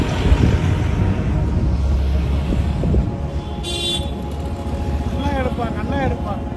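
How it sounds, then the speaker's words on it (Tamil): A vehicle comes up from behind along a roadside in Adirampattinam, its steady road rumble and wind noise running under close talk, with a short horn toot partway through. "வண்டி வருது பின்னாடி."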